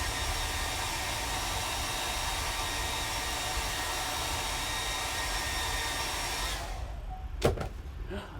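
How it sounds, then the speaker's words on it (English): A hair dryer blows with a steady, loud whooshing hum for several seconds, then cuts off, followed by a brief clunk. "you're gonna hear the hairdryer here in a second"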